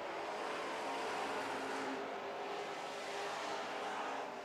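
Super trucks race around a track on the white flag lap, a faint, distant wash of engine roar rising and falling continuously as they pass.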